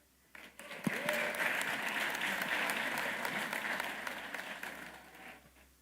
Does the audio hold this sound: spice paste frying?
no